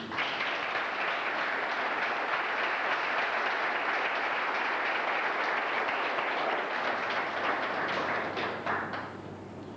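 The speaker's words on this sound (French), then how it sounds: "Veuillez les applaudir." Wedding guests at a town hall civil ceremony applaud the witnesses, a dense, loud burst of clapping that holds steady for about nine seconds before tapering off at the end.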